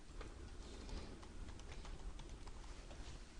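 A command is typed into AutoCAD on a computer keyboard, giving a scattered run of faint, quick key clicks over low background noise.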